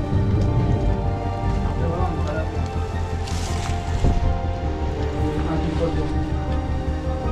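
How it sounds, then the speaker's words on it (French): Heavy storm rain pours steadily and loudly, a dense unbroken wash with occasional gusty swells, while voices talk faintly underneath. "Là, c'est vraiment la tempête."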